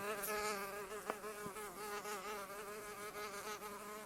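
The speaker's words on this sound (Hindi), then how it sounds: "लेकिन फिर से शेर के कान के पास भिन भिन शुरू हो गई।" A housefly buzzes close by near a lion's ear, a steady whining drone with a rising and falling pitch throughout, loud and alone with a couple of faint clicks.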